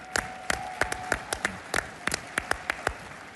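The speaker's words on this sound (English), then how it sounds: "Give yourselves a round of applause." Sparse, scattered claps from a small audience at a conservative political conference, a dozen or so distinct close hand claps at an uneven rhythm rather than a full ovation.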